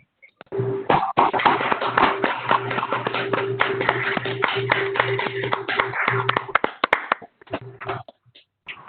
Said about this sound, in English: give another round of applause to Chancellor Dean Van Galen.